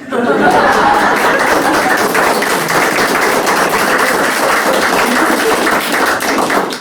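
Applause and laughter from a stand-up comedy audience, a dense, steady wash of clapping that fills the whole stretch at full strength, with chuckles mixed in.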